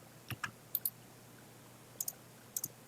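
Mouse clicks in Figma: about seven crisp, close clicks, several in quick pairs, spread across a quiet background with no talking.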